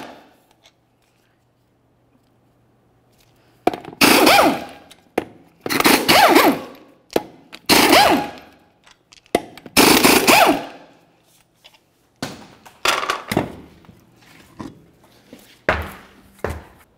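An impact wrench on a 2001-2005 Ford Explorer Sport Trac spins off the 19mm rear wheel lug nuts in about five loud, close, rattling bursts, each a second or two long, separated by short pauses and small clanks.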